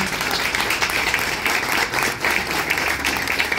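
Audience applause at a football talk event honouring a player's family, a dense, steady burst of clapping from a crowd filling the whole moment, loud and continuous.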